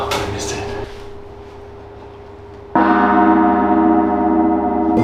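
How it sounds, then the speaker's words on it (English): A gong in a Los Angeles apartment is struck hard, blooming into a loud, sustained metallic shimmer with rich ringing overtones after a quieter lingering tone from an earlier strike. "But obviously the highlight is the fucking gong."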